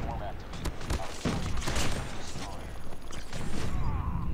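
A sentry gun fires in Call of Duty Mobile, giving rapid bursts of loud gunfire amid game sound effects, with a voice talking over the action.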